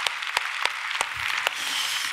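A Korean church congregation claps in thanks to God at a Christmas-season service. A few sharp, separate claps come first, then thicken into a fuller wash of applause.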